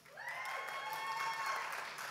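Audience applause fills a banquet room at the 2015 Modesto Chamber of Commerce Gala, a steady, even wash of clapping that rises quickly and holds for about two seconds at moderate distance.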